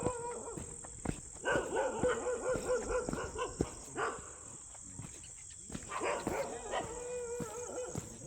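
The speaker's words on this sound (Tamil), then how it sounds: "ஊரில் இருக்க நாய் பூரா கிளம்பிடுச்சு." Village dogs barking at night at the foot of a hill, several dogs yapping and whimpering in bursts from a moderate distance, with a steady insect drone behind them.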